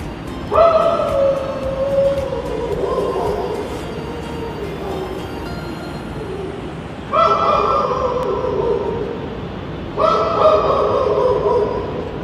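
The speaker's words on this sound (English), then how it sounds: "I don't know if the dog is howling because he hears my voice or what" A dog howls in long, wavering drawn-out cries, pausing between three separate bouts, fairly close and loud against a quiet background.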